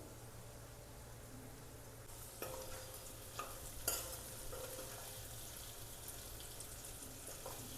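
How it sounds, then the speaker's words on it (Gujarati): Parwal and potato curry simmers in a pan, a faint steady sizzle under soft stirring clinks and a few light knocks, with no speech. "હવે આપણે શાકને ચડવા દઈશું"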